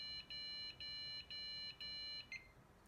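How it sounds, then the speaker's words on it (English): A home server computer beeps as it powers up, a quiet run of four evenly spaced electronic tones followed by a short final blip, alone against faint background hum. "It started beeping."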